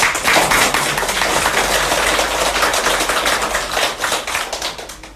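A crowd at a political campaign rally in Gwanak-gu, Seoul, clapping together, a thick, continuous patter of many hands, loud and close, sustained for several seconds without speech.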